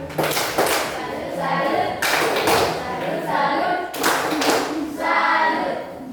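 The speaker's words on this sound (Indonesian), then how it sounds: "Tepuk tangan." Classroom applause from junior high students after a group's science presentation on simple machines, several bursts of clapping with thuds and scattered young voices mixed in.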